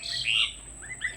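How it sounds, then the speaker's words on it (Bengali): Myna birds being fed puffed rice give a few quick, close chirps and tweets in a short burst, with no voices. "শালিক, ভাতকা শালিক পরিচয় করে দিচ্ছি পাখিদের"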